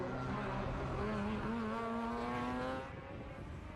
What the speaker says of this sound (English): You can hear that car from miles away. It's a very Mazda rotary thing